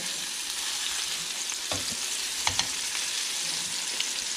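A ribeye steak sizzles steadily in a hot pan just after being flipped. The frying hiss is continuous and fairly close, with a few brief spatters and pops and no voices.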